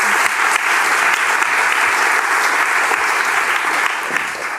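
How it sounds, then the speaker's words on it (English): An audience at a graphic design event breaks into warm, loud applause for a speaker, a dense and steady clapping that holds for several seconds before easing slightly at the end. "give her a warm applause"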